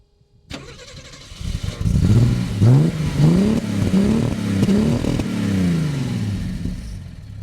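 A 1960s Mercedes 230 SL (W113) sports car engine cranks and starts, then revs up and down several times in a rhythmic series before settling into a steady idle.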